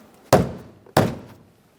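Two sharp, close thunks about 0.6 seconds apart as the exterior door panel of a 2004-2008 Ford F-150 rear door is tapped into place, each knock decaying quickly with no talk.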